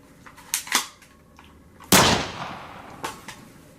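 A single sharp gunshot cracks out loud and close, its echo trailing off, preceded and followed by a few fainter pops and clicks.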